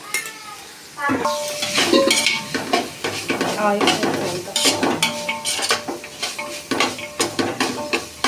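Ginger-garlic paste fries and is stirred in a pan at home, a busy run of scraping, clinking spoon-on-metal strokes over a steady sizzle, fairly close and loud throughout.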